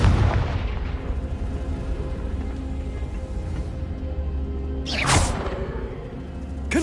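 A Confringo blast in Hogwarts Legacy opens with a heavy boom that decays into a rumbling bed, then a second bright explosive burst erupts around the two-thirds mark before settling.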